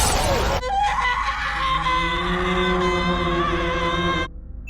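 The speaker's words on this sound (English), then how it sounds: "Rose trips and falls through a glass table" A crash of glass as a person falls through a glass table, with a sharp shattering burst at the start followed by a sustained scream-like tonal cry that holds for several seconds before cutting off.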